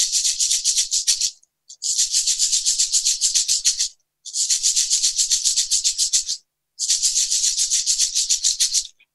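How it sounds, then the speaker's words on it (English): Shamanic rattles shaken in four long bursts of fast, steady rattling separated by short pauses, close and bright, marking the change in drumming signal, with no talking. "I'm going to use my rattles just to demonstrate."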